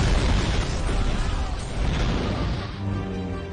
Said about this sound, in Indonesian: menembaknya hingga membuat tempat itu meledak dan hancur